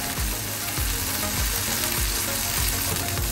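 Oyster omelette pan-frying in oil, a steady dense sizzle filling the clip close up, with periodic low thumps or scrapes roughly every half second, as from a spatula or pan movement; no talking.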